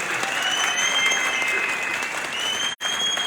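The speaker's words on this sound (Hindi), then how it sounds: "एक बार जोरदार तालियां अपने नेता के लिए होनी चाहिए।" Crowd applause at a party workers' political rally, steady and dense clapping that fills the hall for a few seconds, with a brief dropout near the end.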